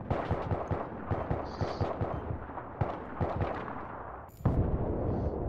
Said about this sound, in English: He just blew the wall apart that we're all hiding behind